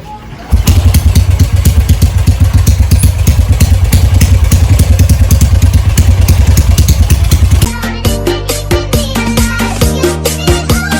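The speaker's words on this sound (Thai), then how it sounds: "ไม่รู้ว่าจะสตาร์ทติดไหมครับเพราะว่ารถไม่ได้สตาร์ทมาประมาณ 2ชั่วโมงนะ" A motorcycle readied for its first race at a km-18 track starts with a burst and settles into a loud, close, steadily pulsing idle, then drops to a rougher, lower idle with uneven revs toward the end.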